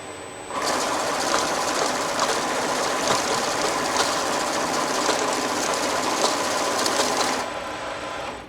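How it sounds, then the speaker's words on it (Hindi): An NW1100 currency counting machine runs through a stack of mixed-denomination banknotes, giving a steady, loud, rapid whirring flutter that starts abruptly, holds for about seven seconds, then cuts off, with no voices. "ये मुख्तलिफ डिनोमिनेशंस के मिले जुले मिक्स करेंसी नोट हैं जो हमने काउंटिंग के लिए एंटर किए।"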